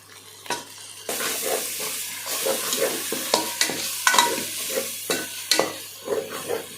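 Ground shallots stirred into ginger and garlic sautéing in a pan for a country chicken curry, a steady sizzle broken by repeated scraping stir strokes, close and fairly loud, with no talking.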